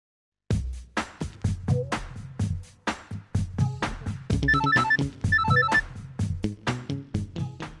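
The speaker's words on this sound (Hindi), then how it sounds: "तुम करण को फोन करो, मैं परी को फोन करता हूँ।" A telephone rings with repeated electronic tones over a steady rhythmic musical backing, loud and continuous after a brief silence.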